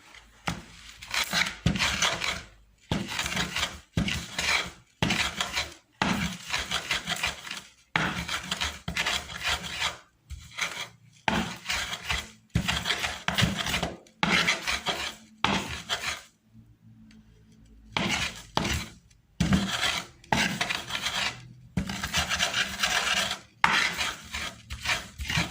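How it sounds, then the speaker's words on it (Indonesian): Flower petals are ground down to make a natural acid-base indicator, giving repeated rough scraping and grinding strokes in irregular bursts with short pauses, close and fairly quiet. "Setelah itu kita haluskan."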